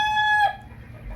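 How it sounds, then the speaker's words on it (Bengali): On a poultry farm keeping native and Fayoumi chickens, a rooster gives a short, clear crow that cuts off after about half a second, leaving faint low farm noise. "দেখুন মুরগিগুলো মাশাআল্লাহ আপনাদের দেখাইতেছি"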